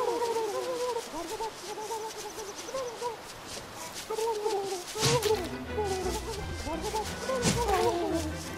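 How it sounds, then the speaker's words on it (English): Repeated harsh squawks from a bird in the Don't Starve video game, loud and close, with irregular calls over busy game sounds and a brief louder burst near the end. "Chase away that bloody bird."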